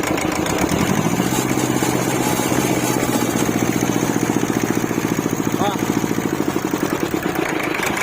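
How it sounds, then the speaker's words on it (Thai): An old Iseki TS2202 4WD tractor's diesel engine chugs steadily at idle with an even, rhythmic knock. It is close and fairly loud throughout. "ลองติดเครื่อง กันครับ"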